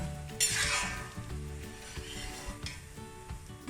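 Coconut pieces frying in hot oil on low gas, a strong crackling sizzle that swells early and settles into a steady spitting, with light utensil clinks underneath and no voices.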